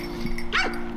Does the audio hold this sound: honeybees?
no